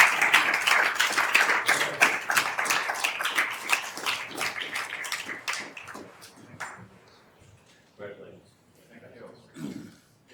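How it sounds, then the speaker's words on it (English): Applause from a university Board of Regents meeting audience: fairly loud clapping with clear individual claps that fades away after several seconds, followed by quiet room noise and a few soft taps and murmurs. "Let's give them one more round of applause"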